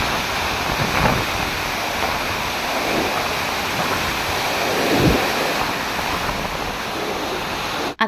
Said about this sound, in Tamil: இது கடல் இல்லை, காவேரி ஆறு தான்